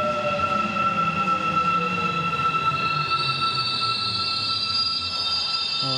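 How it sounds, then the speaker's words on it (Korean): A new SRT high-speed train in Korea running steadily, with a sustained rumble, rail noise and high whining tones that rise partway through, with no talking. "열차 타겠습니다."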